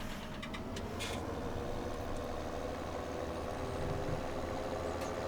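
A tractor engine in Farming Simulator 2017 runs at a steady idle, a continuous low rumbling drone that stays level and close throughout, with a few brief clicks near the start.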